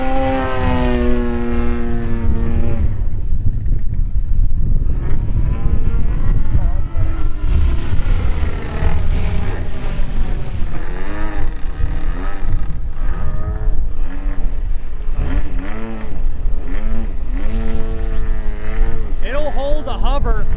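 A 50cc gas engine in an Extra 330LX RC aerobatic airplane roars continuously while hovering and maneuvering in wind, throttle rising and falling in pitch, loud throughout with a person talking over it.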